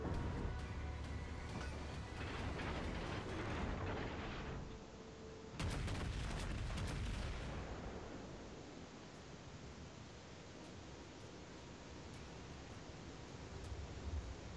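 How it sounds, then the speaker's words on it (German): Battleship main-gun salvo from the German battleship Bayern in World of Warships, heard as dense broadband booming rumble with a brief gap and a second burst, then a long decaying roar that fades into ambient noise. "Eine Salve."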